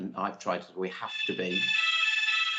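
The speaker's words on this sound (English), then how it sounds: "that's the fire alarm at home" A home fire alarm starts sounding a steady, shrill electronic tone midway through and keeps going under and after a man's speech.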